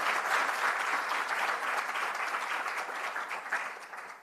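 A symposium audience applauds warmly, sustained clapping from many hands at moderate volume that slowly tapers off toward the end.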